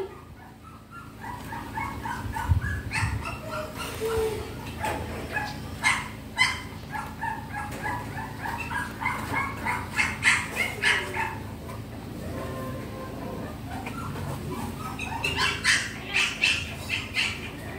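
A pedigree dog barks and yips repeatedly at close to middle distance in a home, short sharp bursts scattered across the scene alongside whimpers, faint bird calls and light household background.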